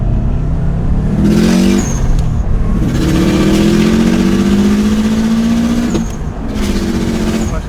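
A Subaru STI with an external wastegate pulls hard at full boost, its engine note climbing through the gears with a sharp turbo whistle and wastegate bursts, heard loud and close from inside the car.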